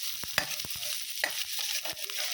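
Chopped onions sautéing in a pan on low flame toward golden brown: a steady soft sizzle with a spatula scraping and clicking against the pan in uneven strokes, close up and with no voices.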